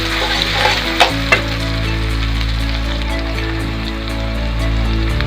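Oil frying and sizzling in a pan while a picnic dish is stirred, a continuous loud crackle with a few sharp clinks of the utensil, and no talk.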